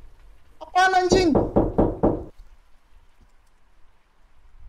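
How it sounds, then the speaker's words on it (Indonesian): Loud knocking in a horror video game, a burst of several heavy raps at an even rhythm lasting about a second and a half, set against a quiet dark ambience that stays low afterward. "Siapa yang ngepok"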